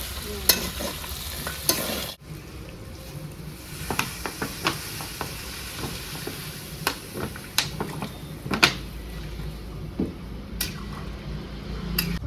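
Fried lentil dumplings (bori) sizzle in a pan of poppy-seed (posto) curry with potatoes, with a soft hiss under repeated sharp scraping and clinking of a spatula stirring close by, and no voices.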